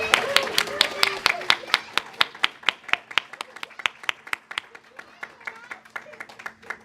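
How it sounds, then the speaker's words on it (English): A church congregation applauds religious education volunteers with a brisk round of clapping from a modest crowd, loud at first and thinning out as it fades over several seconds. "let's give them a round of applause"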